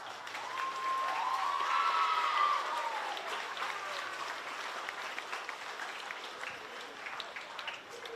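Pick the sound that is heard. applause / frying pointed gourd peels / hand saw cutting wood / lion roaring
applause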